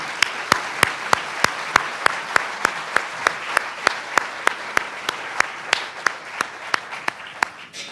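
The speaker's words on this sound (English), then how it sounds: "Let's give all the kids another round of applause" Steady, evenly spaced clapping rings out for award-winning elementary school students at a HOPE Awards ceremony, a regular beat of sharp claps over a low room murmur that runs the whole stretch without talk.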